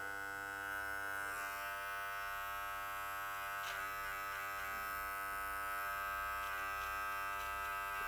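Electric beard trimmer with a close guard buzzing steadily while tidying a mustache along the upper lip, a continuous close hum with slight shifts in tone as the blade moves.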